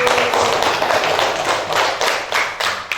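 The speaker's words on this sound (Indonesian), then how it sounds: "Oke, beri tepuk tangan dulu." Schoolchildren in a classroom clap their hands together in a loud, steady run of overlapping claps, with rhythmic pulses that continue throughout.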